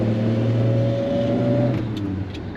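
A 1955 Chevrolet 5-window pickup engine pulling away in second gear, a steady close low rumble with a sustained droning tone that eases off toward the end, with no talking.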